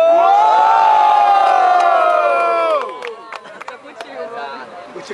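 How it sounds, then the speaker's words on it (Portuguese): A crowd at an outdoor rap battle semi-final roars and shouts in sustained cheering for almost three seconds, then fades into scattered whoops, claps and chatter. "Quem gostou da rima do mano JC faz barulho!"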